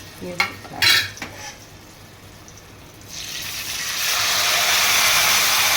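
Cooked jackfruit preserve for chakka payasam being stirred in a pan, a few spoon scrapes and knocks at first, then a rising, steady bubbling hiss that grows louder and stays close; no voices.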